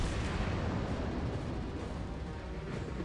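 Battleship secondary guns in a naval combat game keep up a dense, continuous rumbling barrage of overlapping blasts, loud and steady throughout with no pauses and no voices.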